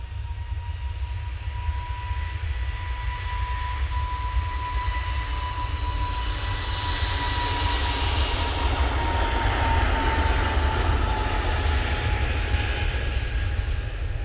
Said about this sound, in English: Jet 2 on the roll, off to Faro.